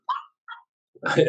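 A dog gives two short barks or yips, then a louder, longer bark-whine runs into a burst of noise, all close and fairly loud.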